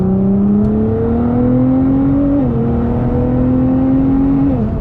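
A 750-horsepower 2017 Nissan GT-R running on E85 launches hard, its engine a loud steady roar that climbs in pitch, dips briefly at a quick shift, then climbs again, heard from inside the car with no talking.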